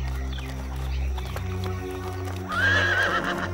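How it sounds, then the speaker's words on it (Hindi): A horse neighs loudly over the steady clip-clop of its hooves, the whinny rising sharply near the end while low background music runs beneath. "बहुत खूबसूरत घोड़ा है, ये किसका है?"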